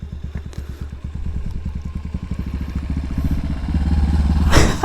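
Motorcycle engine on a river-crossing trail along the Pasig Potrero River, chugging in a close, rapid thumping rhythm that builds louder toward the end before a brief burst of noise.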